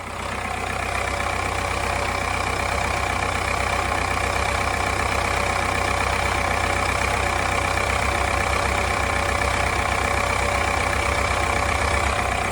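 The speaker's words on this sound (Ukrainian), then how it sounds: "Я думаю, чітко чути на відео, як плавають оберти." A Subaru/Opel 1.7 diesel engine idles with hunting, unsteady revs caused by uneven fuel delivery from the pump. The loud, close, continuous diesel drone runs for the full length with a slight wavering rhythm.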